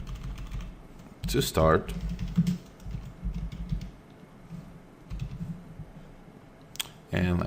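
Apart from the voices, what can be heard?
typing on a computer keyboard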